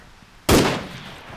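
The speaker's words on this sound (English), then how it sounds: "Gunshots everywhere." A single loud gunshot in the military game Arma 3 cracks out close by, its boom trailing off over about a second with a faint echo.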